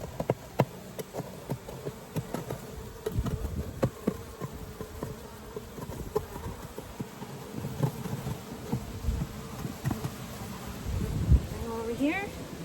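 Honey bees swarming around an open horizontal 24-frame Layens hive during a colony inspection, a close, continuous buzzing with individual bees passing by, mixed with knocks and scraping from handling the hive and someone talking.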